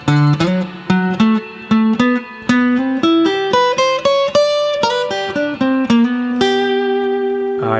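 A guitar plays a slow blues lick of single plucked notes, stepping up and back down, ending on a held note that rings out.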